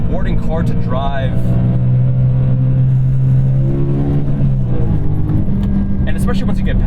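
A BMW M3 E92 engine winds up past 6,000 RPM, its rising, sustained howl heard close from inside the cabin as the tone climbs and then shifts, with a person talking over it near the end.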